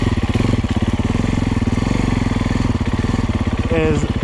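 A 2015 Husqvarna FC350 or 2010 Husaberg FX450 dirt bike runs in tight woods, its engine putting out a close, loud, rapid pulsing thrum at a steady pace with a slight rise near the end.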